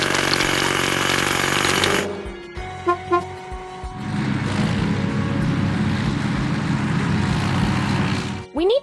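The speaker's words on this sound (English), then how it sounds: "Hydraulic hammer." Hydraulic hammer in a kids' construction vehicle video game pounding and cracking big rocks, a loud, dense, steady mechanical roar with a brief lull of clanks and tones before the heavy breaking noise resumes, no voices.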